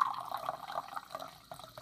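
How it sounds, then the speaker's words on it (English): Seltzer water poured into a glass, a short, faint bubbling, trickling splash that fades near the end. "I'm gonna open it and"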